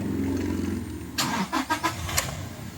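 A Toyota Innova engine cranks and catches, with several quick revving bursts over a steady idle rumble, close by.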